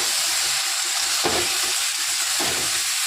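Mixed vegetables fry in a pan with salt and white mustard paste, giving a loud, steady sizzle with soft stirring scrapes and a couple of brief clatters.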